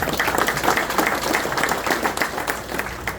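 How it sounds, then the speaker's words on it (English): An audience at a king mackerel fishing seminar in Madeira Beach, Florida applauds, dense steady clapping from many hands sustained throughout at moderate loudness. "please give a round of applause for Randy Keys and Jimmy Hasson."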